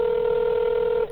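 A single long electronic telephone tone sounds for about a second on a 911 call, steady and close, then cuts off abruptly.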